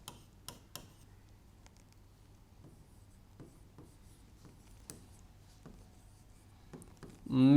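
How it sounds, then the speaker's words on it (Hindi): Marker or chalk writing statements on a classroom board during an English grammar lesson, heard as a series of short scattered taps and strokes, fairly quiet, ending in a louder burst of sound. "एक दो स्टेटमेंट लिखता हूं"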